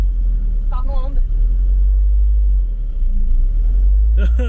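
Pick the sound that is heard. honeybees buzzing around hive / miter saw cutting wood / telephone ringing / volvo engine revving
volvo engine revving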